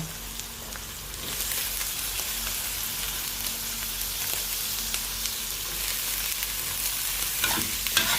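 Suki noodles stir-fried with egg and vegetables, a dense steady sizzle that swells after a quieter opening, with scattered scrapes and taps of a spatula near the end, close and without talk.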